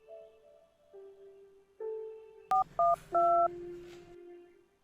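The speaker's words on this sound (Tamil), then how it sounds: "ஃபோன் போடு மல்லிகா." Telephone number being dialed: a sequence of distinct electronic keypad tones, first soft and sustained, then three louder, sharper beeps in quick succession ending in a lingering tone, with no voices.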